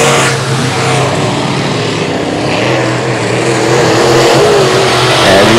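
Modified race cars roar around a drizzle-wet dirt speedway at Boothill Speedway, a dense, continuous engine drone with shifting revs from several cars at once, steady and loud throughout.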